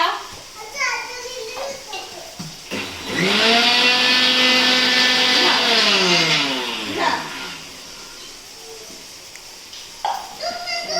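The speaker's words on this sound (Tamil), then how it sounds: "தக்காளி நல்லா பேஸ்ட்டாக அரைச்சாச்சு" A mixer grinder grinds tomatoes into paste, its motor whine rising to a loud, steady spin for about four seconds, then winding down. Children's voices and chatter come before and after.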